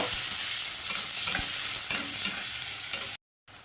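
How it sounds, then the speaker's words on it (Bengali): Onions fry lightly in a pan with a dense, steady sizzle and soft stirring scrapes. The sound stays close, then cuts out briefly near the end. "এখন পেঁয়াজটা একটু হালকা ভেজে নেব"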